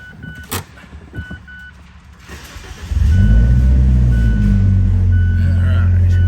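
2018 Fiat 124 Spider Classica with a six-speed manual fires up after a few quiet seconds of background noise, the engine catching abruptly and settling into a loud, steady, close idle.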